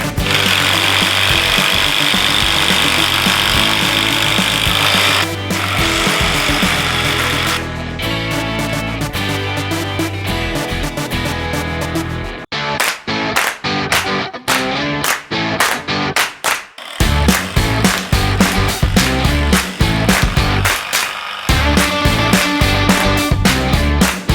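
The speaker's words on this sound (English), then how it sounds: "I like using these spack screws because these are really good for those of us who might be a little bit more lazy" Screws are driven into pallet wood with no pre-drilling, the power driver whirring loudly in long bursts, then shorter stuttering pulses as the threads bite, ending in rapid hard rattling.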